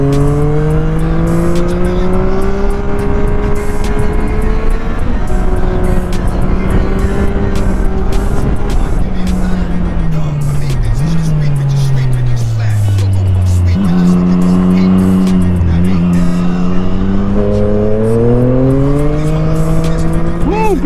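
Triumph Street Triple 660 S motorcycle with an SC Project exhaust being ridden, engine note loud and close, rising and falling through gear changes and revs for about twenty seconds.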